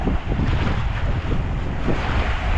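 Broad, rough surf noise with a low rumble of sea waves washing onto a beach shore, mixed with gusty wind buffeting the microphone.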